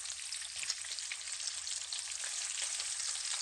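Bacon frying in a pan, a continuous dense hiss and fine crackle held at an even level for the whole stretch, close but fairly soft, with no voices.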